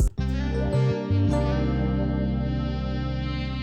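Guitar one-shot from the Kid Chronic Essentials 2 kit rings as a long sustained chord with a slow decay, a deep bass note briefly shifting underneath, clear and alone.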